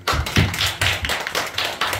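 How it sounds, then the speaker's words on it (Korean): A church congregation claps in steady, rhythmic unison during a Sunday service, the sharp hand claps close and full with no talking over them. "우리 박수로 영광."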